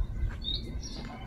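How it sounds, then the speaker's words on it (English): Birds in neighborhood trees in the south of Serbia give a couple of short, high chirps, moderately close, over a low outdoor rumble. "Full of birds."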